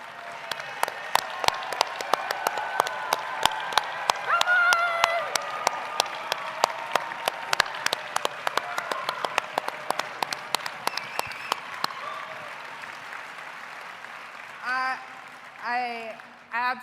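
An audience at a gala applauds legislators, board members and staff: dense, steady clapping with a few louder claps, fading out around twelve seconds into quieter room noise and brief voices.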